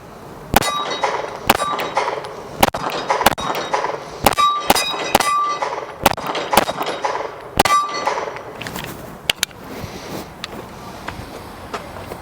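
Rapid shots from a Staccato pistol at a shooting range, each ringing off a steel target with a sharp metallic clang, fired in quick uneven bursts of a dozen or so, loud and close with no talking.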